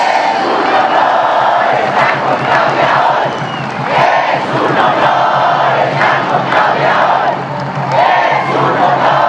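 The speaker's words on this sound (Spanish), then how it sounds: "Un aplauso a nuestros diputados y senadores, patriotas." A large crowd at a political rally in Mexico roars and cheers continuously, a loud dense wall of voices with whoops and shouts swelling and dipping slightly throughout.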